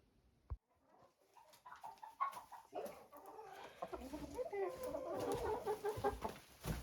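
Chickens cluck and murmur in a busy, overlapping chorus that grows fuller and louder toward the end, with a sharp knock near the start.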